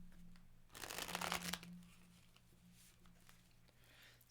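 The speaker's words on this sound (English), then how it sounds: "shuffle these" Tarot cards being shuffled close by, one quick burst of riffling and patter lasting under a second, followed by faint soft handling against quiet background.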